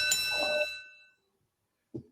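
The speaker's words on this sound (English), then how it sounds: "I always gotta bounce around and remember I have to do bells and stuff." A show host strikes a handheld bell once during a wrestling recap podcast, giving a bright ringing ding that decays over about a second, then a short thud as it is set down.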